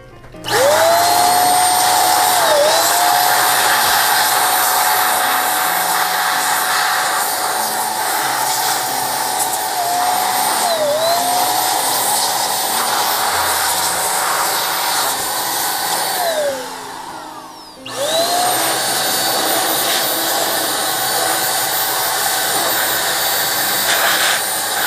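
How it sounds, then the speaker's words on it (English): An electric air duster blows dust out of an opened 2016 MacBook Pro, a loud, steady high-pitched whine with several brief pitch dips and one short pause before resuming. "I'm gonna go ahead and dust it off with my fancy little duster"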